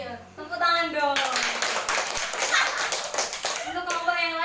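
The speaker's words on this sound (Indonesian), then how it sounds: "Tepuk tangan dong." Classroom students applaud together at a teacher's prompt during a lesson, a dense burst of hand claps lasting a few seconds between spoken words at the start and end.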